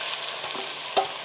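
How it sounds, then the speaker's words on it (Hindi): Half a kilo of thinly sliced onions frying in hot oil for degi korma, giving a dense, continuous close sizzle with one brief clatter near the end. "और प्याजों को करेंगे हम गोल्डन फ्राई"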